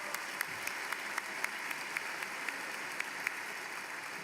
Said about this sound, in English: You should give yourselves a round of applause for being here today in this spot.